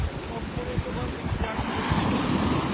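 Strong sea waves surge onto a beach at Sultan Mastura in Maguindanao del Norte, a dense, continuous roar of surf muffled by heavy wind buffeting the microphone, loud and unbroken throughout.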